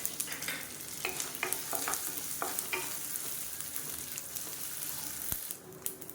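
Ten to twelve dried red chilies and curry leaves fry in oil with a soft, continuous sizzle and a few quick scraping stirs, followed by a brief clink near the end.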